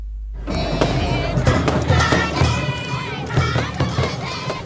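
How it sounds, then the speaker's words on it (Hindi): A BJP office celebration in Bhopal with a crowd cheering and chattering, and repeated sharp fireworks bangs and crackles bursting through the steady din. "बीजेपी दफ्तर में जमकर आतिशबाजी हुई"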